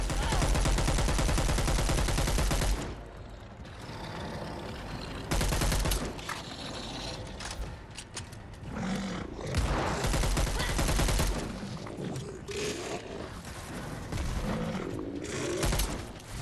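Gunfire in Dead Island 2 comes as a long loud rapid burst, then clustered and scattered shots amid mechanical clatter, dense and close throughout.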